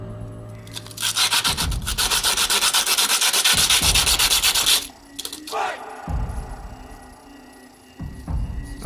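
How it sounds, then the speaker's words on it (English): 80-grit sandpaper rasps against the plastic headlight edge of a 1946 Dodge Power Wagon RC wrecker model in fast, close back-and-forth strokes for about four seconds, then in a few shorter, scattered scrubbing passes. "This is 80 grit, so it's going to sand it pretty quick."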